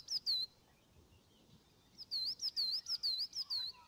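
Songbirds chirp in a quick series of high, clear whistled notes, a short pair first, then a rapid run of repeated calls over quiet woodland background at Hazar Lake.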